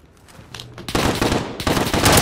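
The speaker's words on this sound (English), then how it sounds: "I thought it was an automatic gun" Rapid automatic gunfire in a gunfight tournament video game, starting faint and sparse, then erupting into loud, dense bursts of shots that continue to the end.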